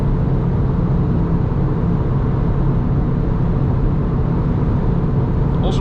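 An Alfa Romeo Mito labours in 4th gear on the autobahn with the pedal fully down, giving a steady, loud engine drone over heavy road and wind roar that barely changes throughout.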